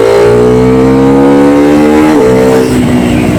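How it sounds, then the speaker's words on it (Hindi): A Husqvarna motorcycle in third gear revs hard and loud, its engine note climbing steadily, dipping briefly at a shift, then climbing again, close up with no talk. "मतलब किस तरीके से इस बाइक में इतनी पावर जनरेट कर रही है, इतना मज़ा आ रहा है इसको रेफ करने में"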